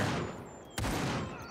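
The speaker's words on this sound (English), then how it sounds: "What was that? Shotgun?" A single sharp shotgun blast from the tactical shooter game Gray Zone Warfare, a sudden loud crack cutting through steady background game ambience partway through.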